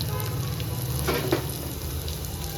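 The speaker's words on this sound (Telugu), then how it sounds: "తాలింపు అయితే పెట్టేసుకుంటాను నేను ఇక" Steady frying sizzle of tempering spices and dried red chillies in hot oil, a constant crackling hiss with a couple of brief louder pops, no voices.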